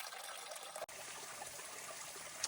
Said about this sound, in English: I would betcha it's that same stream I saw up higher.